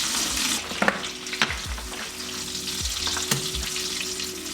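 Steak frying in butter in a pan, a continuous bright sizzle with a few soft knocks and scrapes of the pan or utensil, close and fairly loud with no talking.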